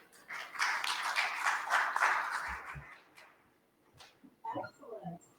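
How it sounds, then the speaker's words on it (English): Warm audience applause welcoming speakers at an ethics session for incident response and security teams, a brief swell of clapping that fades after about three seconds, followed by a few quiet sounds and a voice starting to speak. "Can we give them a warm round of applause?"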